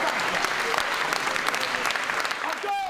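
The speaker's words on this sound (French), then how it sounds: "C'est une personne qu'il faut ovationner et l'applaudir." A sports club audience in Besançon breaks into steady applause that holds throughout, with faint voices and a brief cheer mixed in near the end.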